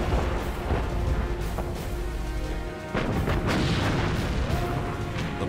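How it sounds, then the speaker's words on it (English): Battleship Bismarck's heavy naval guns firing in a sea battle, a dense rolling roar of booms with a sharp blast midway, loud and sustained with no talk. "Bismarck fires again."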